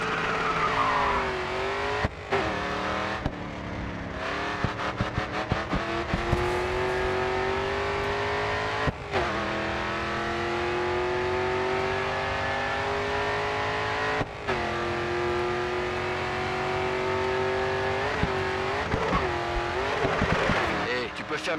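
Race car in the Grid 2 video game roaring down the final straight, engine note climbing steadily through gear after gear with brief dips at each shift, loud and continuous with a faint tire squeal.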